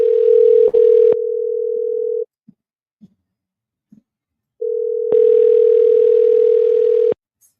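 An answering machine sounds a steady electronic beep tone, one long tone followed by a silent gap with faint clicks and then a second long tone, loud and clear with no voices.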